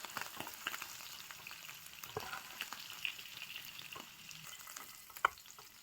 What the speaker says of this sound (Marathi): पनीरला चांगलं फ्राय करून घेऊ आपण.